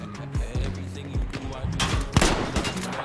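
Jorgensen sniper rifle shots in Battlefield V sound as a handful of sharp reports spread across the moment, with game noise and a speaking voice mixed in.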